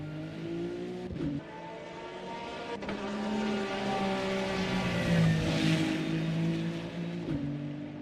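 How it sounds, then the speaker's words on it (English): GT3 race car lapping Spa-Francorchamps during qualifying, its engine note rising and falling through gear changes as it passes, loud and continuous with a sustained roar building to a peak mid-clip. "Definitely pushing this car here is Mitesh Ramdani."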